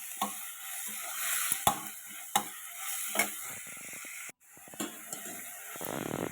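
A pot of milk bubbles and hisses steadily on the stove, punctuated by a few sharp clinks of a spoon against the pan.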